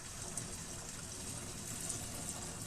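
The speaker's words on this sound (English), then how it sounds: "That's a lot of water." Water gushes steadily from a 2016 Range 900 XP hi-lifter, a constant loud rushing hiss that stays even throughout with no pauses.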